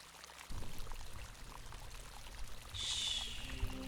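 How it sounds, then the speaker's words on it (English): Water pours steadily during a hair wash at a spa, flowing close and continuous with a brighter, splashier stream building in the second half. "First, I'm going to wash your hair."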